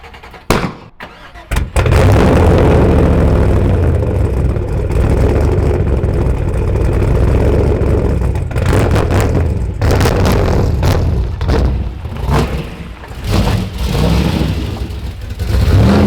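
A junkyard Nissan Skyline R32 GTR engine, treated with Seafoam in its oil, runs loud and steady at a fast idle with rising revs throughout, close by, after a brief burst of noise at the start.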